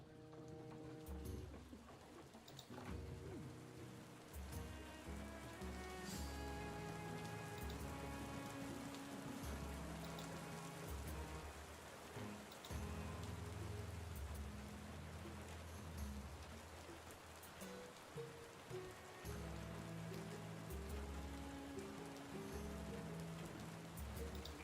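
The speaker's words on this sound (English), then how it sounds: "Seems we're in for a rainy night." Steady rain falls through the night in the tavern-management video game Tavern Keeper, a constant hiss under layered background music that continues throughout.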